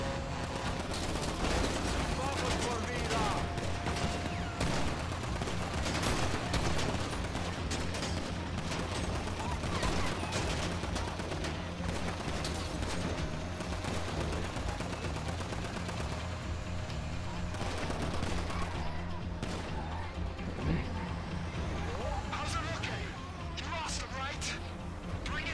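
Rapid gunfire aimed at vehicles during a heist mission in Grand Theft Auto V, with dense bursts and repeated shots cracking over steady engine and action noise, and a voice talking at times.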